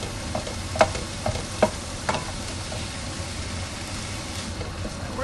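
Partly frozen ground beef for sloppy joes sizzling steadily in a frying pan, with a few sharp scraping taps from a spatula chopping it up, close and continuous with no talking.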